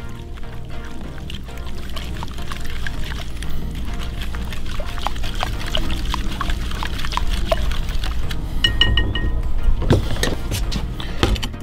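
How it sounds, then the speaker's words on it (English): Carolina Gold mustard sauce with cayenne pepper is poured into a pan for a Weber kettle cook, a soft continuous liquid glug and splatter with light clinks, no talk. "We're gonna pour it into a pan."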